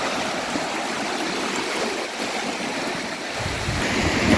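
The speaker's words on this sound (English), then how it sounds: "I always love a paddle, even if the water is a little bit bubbly, a bit frothy" Feet paddling through bubbly, frothy sea water at the shore, a constant rushing wash of surf and flowing water with wind, swelling louder toward the end.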